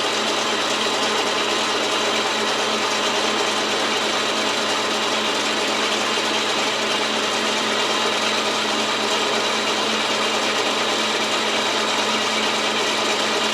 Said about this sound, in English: love the sound of the gears whirring and watching the machine operate